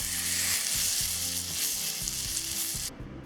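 Burger patties fry in a pan with a steady, fairly loud sizzle and crackle that continues throughout, with brief stirring or shifting sounds and no talking.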